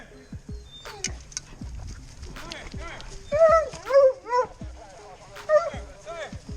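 A deer hunting dog whimpers and lets out a string of high yips, some loud and close, amid footsteps and movement, while people talk over it.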